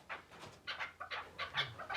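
Chukar partridges on a farm give a string of repeated, rhythmic clucking calls at close range, with several bursts coming in quick succession and no talk.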